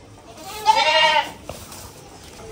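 A goat being fed tender fresh grass lets out a single clear, wavering bleat lasting under a second, close by, followed by faint rustling and quiet background.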